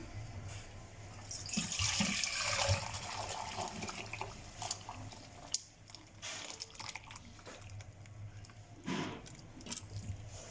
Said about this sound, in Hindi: अब हम इसका पानी उतार लेते हैं